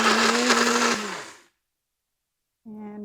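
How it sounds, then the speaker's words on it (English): A blender purees ripe canned Kesar mango with a loud, close, whining motor drone that runs for about a second and a half, cuts out to silence, then starts again. "We're going to blend this up."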